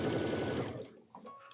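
A sewing machine running a zigzag stitch on a ruffle pillow whirs steadily and close for under a second, then stops, leaving a few faint clicks and handling noises.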